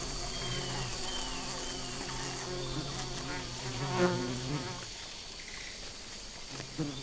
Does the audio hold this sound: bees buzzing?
yes